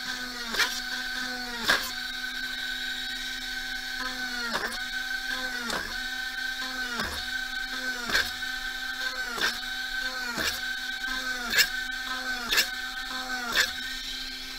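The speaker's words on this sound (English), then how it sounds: "I'm going to put some more holes in this holy piece of wood with my Dremel, and I'm just going to turn it on" A Dremel rotary tool bores holes in a metal piece for textured beading components, sounding as repeated short whirring bursts roughly every second, each with a sharp pitch drop, at a steady rhythm with no talk.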